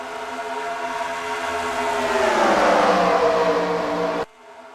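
NASCAR trucks in the NR2003 racing game roar past at the race start at Denver, a loud, dense engine drone that swells and shifts pitch as the field passes, then cuts off abruptly near the end.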